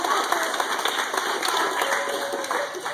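Audience applause for a volunteer at a stage hypnosis show, steady clapping from a modest crowd at moderate volume, sustained throughout without letting up.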